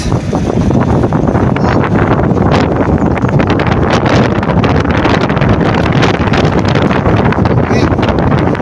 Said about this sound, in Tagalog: Ang halakas ng hangin.